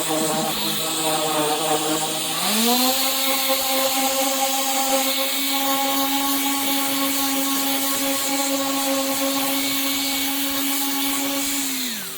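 A polishing machine buffs a scuff out of a car's paint with a steady, loud motor whine that steps up in pitch early on and then holds an even, continuous drone close by.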